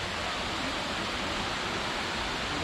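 Benang Kelambu waterfall at the foot of Mount Rinjani, water falling straight from the ground: a steady, even hiss and rush of falling water, moderately loud and constant, with no voices.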